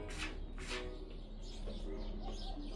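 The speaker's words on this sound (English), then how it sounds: "the birds are chirping so loud" Birds chirp loudly outdoors at dinner time, with quick bright calls repeating over a steady background hum.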